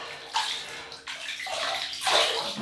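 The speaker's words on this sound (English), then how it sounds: "sink's full of water, and we're ready to rinse this ugly mug and get going." Water splashes and sloshes in a full bathroom sink in short bursts as a face is rinsed, close and fairly loud.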